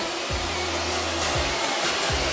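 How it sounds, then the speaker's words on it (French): A vacuum cleaner runs with a steady, fairly loud whirring hum, and a low tone drops in pitch a few times as it works. "C'est un réel plaisir de regarder Willow faire l'aspirateur"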